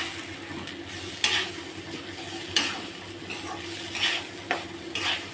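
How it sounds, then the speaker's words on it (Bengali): Spices and ginger paste frying over low heat in a pan for basanti pulao, stirred with a metal spoon: continuous soft sizzle punctuated by periodic clinking scrapes against the pan. "এবার দিয়ে আমি এটা নাড়াচাড়া করছি।"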